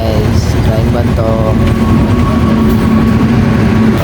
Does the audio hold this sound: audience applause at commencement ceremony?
no